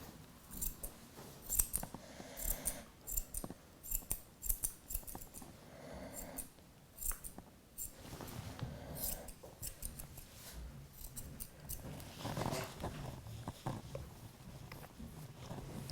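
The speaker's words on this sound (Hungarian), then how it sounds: "ha teszem az ollót, akkor egy ilyen irányú minimális vágással vagy vonallal tudom még a fejet igazítani." Scissors snip through a dog's head coat in irregular bursts of close, crisp cuts, with brief pauses between clusters of trimming.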